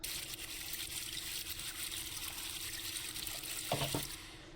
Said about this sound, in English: it's basically just water sounds and granular